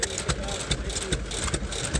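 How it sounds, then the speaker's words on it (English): A 1918 Fairbanks Morse 6 horsepower Z stationary engine runs with a steady, rhythmic chugging, its regular beats close and clear at a flywheel engine show. "This 1918 Fairbanks Morse is a 6 horsepower Z"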